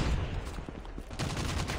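Rapid gunfire from the Call of Duty Mobile multiplayer shooter: dense, loud bursts of shots crowded into less than two seconds, with no speech over them.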